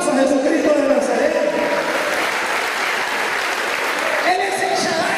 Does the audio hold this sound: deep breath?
no